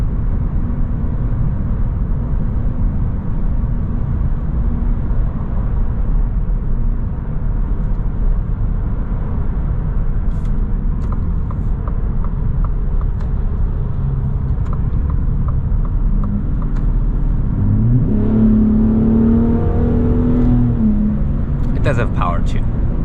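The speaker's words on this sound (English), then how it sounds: "give you the opportunity to listen to how this Raptor is to drive on the highway" A Ford F-150 Raptor cruises on the highway with its exhaust in normal mode, giving a constant low engine and road rumble throughout. Faint clicks and tones sound partway through, and a short rising whine comes near the end.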